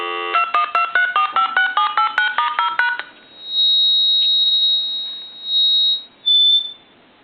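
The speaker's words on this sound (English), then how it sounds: "Turn off the speakerphone, turn it back on, and hit redial." Redial on a telephone speakerphone from a Chinese dragon telephone conversion: a rapid run of about a dozen clear dialing tones in quick succession, then a long high tone and two shorter tone bursts, all loud and close.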